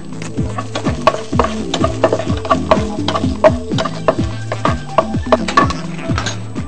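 Garlic and shallots stir-fry in a hot pan with a steady sizzle, broken by repeated rhythmic scrapes and clanks of a spatula against the metal, close and clear with no talking.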